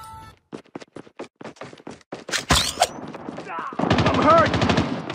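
KRM-262 shotgun fire in the mobile shooter Call of Duty Mobile, with a run of sharp, evenly spaced close blasts followed by a louder burst of heavier reports and rapid clattering shots, mixed with game effects and brief beeps.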